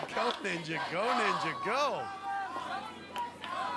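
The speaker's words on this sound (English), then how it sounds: "Listen to the crowd." At the American Ninja Warrior Venice Beach finals, a crowd chants loudly and rhythmically in unison, several rising calls in a row, over a backdrop of general cheering and chatter.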